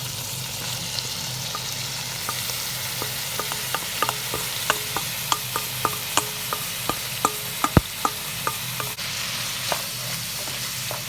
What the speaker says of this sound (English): So I'm just gonna add my callaloo now to the pot.